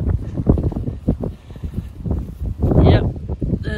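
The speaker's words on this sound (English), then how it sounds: "it's very windy today, so I'm switching to voiceover." Strong wind gusting across a golf course, buffeting the microphone in a loud low rumble that swells sharply near the end, with voices faintly mixed in.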